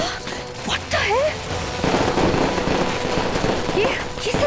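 Fireworks bursting loudly overhead and falling down onto people during a festive scene, a dense run of crackling, popping explosions with a sustained noisy roar, mixed with raised, alarmed voices and whistling streaks.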